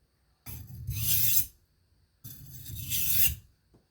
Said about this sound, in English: I'm going to wind it down, doing alternating edge leading stops to see if I can reduce that burr a little bit.